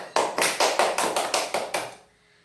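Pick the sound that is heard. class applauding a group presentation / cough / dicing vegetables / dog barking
class applauding a group presentation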